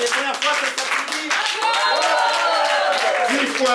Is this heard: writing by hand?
no